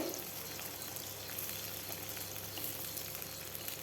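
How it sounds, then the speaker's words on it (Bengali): Onions and cut potatoes fry in a pan for a fish curry, giving a steady, even sizzle with faint crackle that holds at a constant level throughout, with no talking. "আলুটা দিয়েও বেশ কিছুক্ষণ সময় ধরে ভেজে নিতে হবে"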